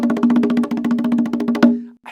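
A fast, even roll on a hand drum runs as a rapid, steady stream of close strokes for under two seconds, then stops abruptly.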